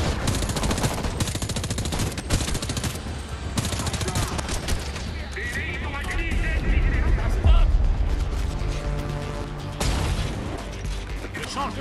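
Rapid gunfire in the multiplayer mode of the video game Homefront: The Revolution rattles almost continuously, with dense bursts and impacts. Someone talks over the shooting at times.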